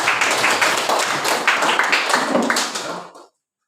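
A school class claps hands together, in a busy, uneven patter of many palms that runs for about three seconds, fades and cuts to silence.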